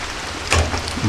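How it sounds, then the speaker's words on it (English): Rain falls outdoors on a warm winter day during a muzzleloader deer hunt, a steady close hiss with slightly louder patters. "as you can tell, it's raining right now"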